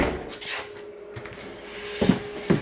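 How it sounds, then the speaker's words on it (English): Cabinet doors and drawers in a 2022 XLR Boost 32RZR14 toy hauler RV are shut one after another, giving soft thumps and two sharper knocks close by near the end. "go through the unit, make sure all the doors and drawers are closed."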